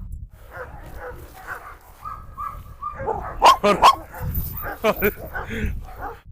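A dog named in an Estonian farm setting with sheep nearby barks in a few sharp, close bursts, with a person talking around and between the barks.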